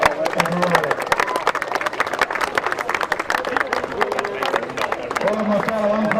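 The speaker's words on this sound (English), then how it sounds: "Can we have a round of applause for Sarah and Riley?" A crowd at a rowing regatta claps steadily in dense, continuous applause, with scattered voices and cheers mixed in throughout.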